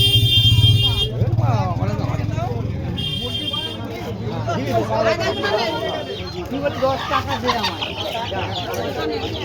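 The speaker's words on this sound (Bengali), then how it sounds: "জাঙ্গিপাড়া বাজার মুরগির বাজার দেখে নাও দাদা" Poultry market at Jangipara bazaar: a dense hubbub of crowd chatter with chickens clucking and crowing close by, plus a passing motor, all continuous and busy.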